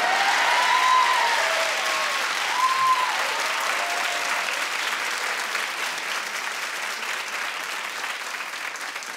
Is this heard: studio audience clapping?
yes